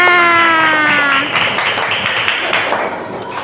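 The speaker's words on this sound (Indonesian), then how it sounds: "tepuk tangan untuk kalian semua" Classroom applause from primary school pupils, a burst of quick claps that starts under a fading voice and continues as a loud, dense patter.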